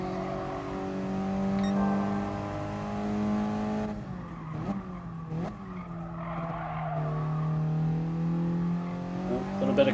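A 1996 Mitsubishi Lancer Evolution 4 in the racing game GT Sport pulls away hard, its steady engine note rising and dipping through gear changes. A couple of short tire squeals break in midway, all fairly loud and close.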